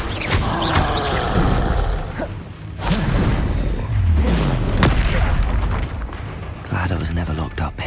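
Rapid magical spell blasts and booming bursts in the Hogwarts Legacy video game, several impacts and whooshes over about eight seconds amid continuous game sound, with a voice speaking over the action.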